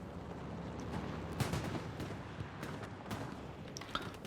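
Scattered gunfire from a competitive multiplayer shooter game match, with sharp shots popping at irregular intervals over a dense, busy background of battle noise, moderately distant and fairly quiet throughout.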